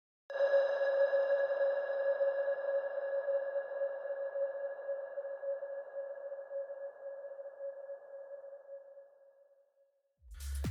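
A white noise sweep with heavy reverb, long size and decay and low diffusion, built in FL Studio for a James Hype "Ferrari" remake. It holds as one steady tone-like wash for about ten seconds, fades out, then a low thump starts right at the end.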